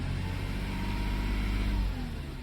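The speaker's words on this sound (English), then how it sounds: "But engine's quiet. Revs up just fine." Engine of a 2011 Volvo XC60 salvage rebuild revving, a close, steady low hum that rises slightly in pitch and swells before easing back, with no talking.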